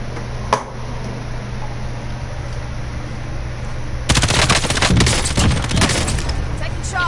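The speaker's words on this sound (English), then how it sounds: "There's some people shooting at me." Video game gunfire erupts halfway through as a dense volley of rapid shots after a quieter stretch with one early crack, loud and close, with someone talking during it.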